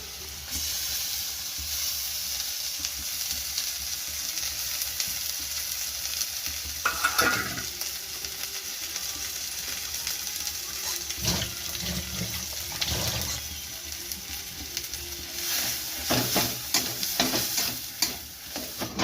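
Peas frying in a pan for a kachori filling, a continuous close sizzle with repeated scraping and stirring strokes throughout, with no talk.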